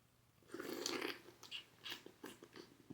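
Someone biting into and chewing a juicy cucumber alongside a cheap shrimp seafood boil, close and quiet, a crisp crunch followed by several wet chewing bites.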